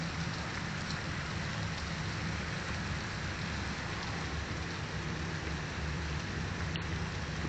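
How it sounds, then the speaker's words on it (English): Fairly heavy rain pours onto a street in Cleveland, Ohio, a dense, constant hiss at even loudness throughout, with no talk. "It's raining pretty good."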